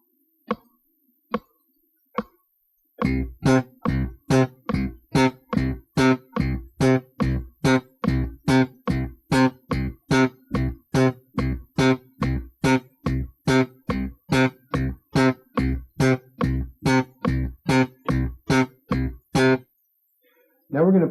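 Very short staccato slap bass notes played in a steady, even run of around thirty plucks against a metronome click, close and loud, after a few sparse opening hits.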